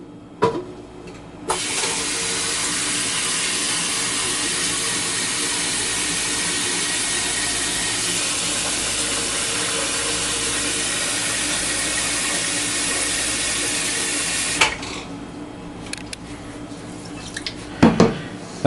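A sink tap runs water into a pot of rice to soak it, a strong, steady rushing stream that starts after a brief pause and stops abruptly near the end, followed by a few faint clinks.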